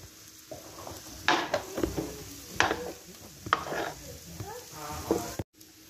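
Stuffing ingredients stirred in a Dutch oven, a few scraping, clattering strokes of a spoon against the pot with a soft sizzle underneath, close and moderately loud, alone with no talk.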